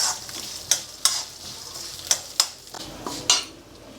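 Tamarind and curry leaves fry in a pan while a spatula stirs them, giving a steady close sizzle broken by about half a dozen sharp scrapes and clacks against the metal.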